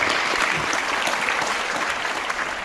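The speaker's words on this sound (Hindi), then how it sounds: "तो मैं चाहता हूं आप सब अपने लिए एक शानदार ताली बजाएं।" Audience applause at a network marketing seminar in India, a dense steady wash of many hands clapping together, loud and sustained throughout without voices on top.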